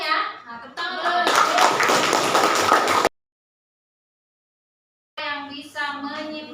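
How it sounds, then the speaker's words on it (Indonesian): Classroom of pupils clapping for the winning group, a burst of brisk hand clapping lasting a couple of seconds between stretches of voices, then a sudden cut to silence before talking resumes. "Nah, tepuk tangan"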